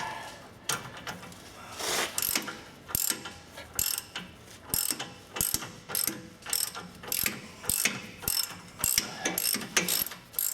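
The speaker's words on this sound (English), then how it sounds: "I'll get a just small ratchet on it." Small hand ratchet turning the lower ball joint nut on a Ford F350 4WD truck, giving a steady run of sharp, close clicking bursts in a regular back-and-forth rhythm, with no talking.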